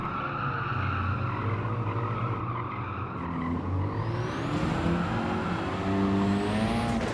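A Ford Focus rally car in Gran Turismo 7 slides through dirt corners at Catalunya, its engine revving and rising in pitch while the tires scrabble and skid, loud and continuous.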